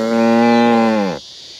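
A single long, loud moo from a cow on a farm raising sweet potatoes, close by and clear, holding steady for about a second before breaking off abruptly into quiet outdoor air.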